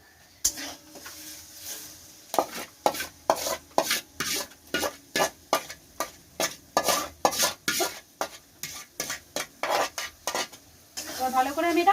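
Masala paste for mutton curry sautéed in a pot, a long run of rhythmic, closely spaced spatula scrapes and clatters over a faint sizzle, loud and near with no talking.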